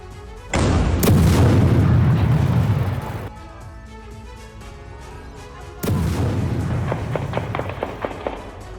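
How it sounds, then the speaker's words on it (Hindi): Heavy bombardment hits Askar camp in eastern Nablus: two loud, deep explosions, each followed by a long rumbling roar and crackling debris, with a quieter lull between them. "ये धुआंधार बमबारी पूर्वी नेबलस के अक्सर कैंप में जारी है।"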